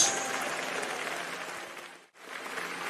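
A church congregation claps their hands together in dense, sustained applause that fills the room, briefly dropping away near the end before resuming.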